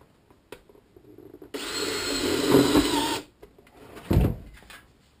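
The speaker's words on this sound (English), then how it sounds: "what I'm going to use right here is a self-tapping sheet metal screw." A power drill drives a self-tapping sheet metal screw into a handmade chimney cap: one sustained whirring burst of nearly two seconds, then a quick second burst, with quiet handling noises between.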